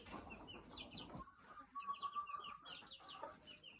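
Hens cluck softly while chicks peep in high, rapid chirps, a quiet farmyard chorus from a backyard hen coop with no talking.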